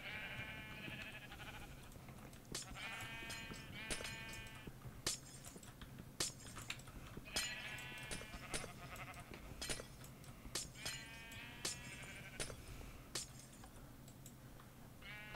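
Minecraft sheep bleat in a quiet game scene, scattered wavering calls from several animals among sharp clicks and cracking block sounds, fairly faint overall.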